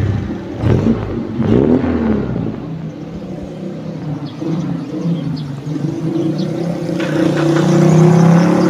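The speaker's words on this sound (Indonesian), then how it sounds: "Nah, kita coba starter untuk mesinnya, kita dengerin suaranya bagaimana." A 1997 Suzuki Sidekick engine cranks with a few rough bursts, then settles into a smooth, steady idle heard up close with a low hum and light mechanical whir, and no talking.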